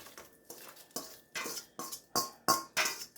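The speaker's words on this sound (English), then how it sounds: "I'm draining my meat, so now I'm going to add my hamburger" Drained hamburger meat scraped from a container into a soup pot, a series of about eight rhythmic clinking scrapes of a utensil against metal, close and fairly quiet with no talking.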